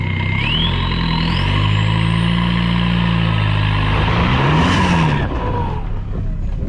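Volkswagen TDI diesel engine revving hard with a rising turbo whistle, loud and close, a steady heavy drone with the whine climbing over the first seconds before the revs drop.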